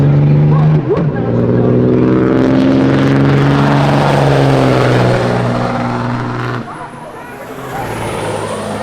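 A Cummins diesel drag truck roars through a quarter-mile pass at a drag strip, loud and sustained with a rising then falling engine drone, cutting off near the end as a lighter whine carries on.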